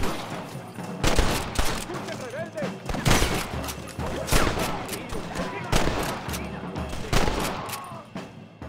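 Gunfire rattles in Red Dead Redemption during a battle among ruins, repeated bursts of shots with bangs over a busy battle din, while soldiers shout in Spanish.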